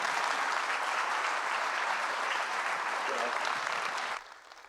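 A church congregation applauds to welcome the pastor, dense steady clapping that fills the room and then drops off sharply near the end.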